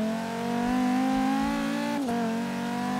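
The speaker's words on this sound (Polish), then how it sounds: "bardzo fajnie brzmi na tym seryjnym silniku" A Volvo 850 R on its stock engine in Forza Horizon 3 holds a steady, loud engine drone near constant revs, with a brief dip and shift in pitch before settling again.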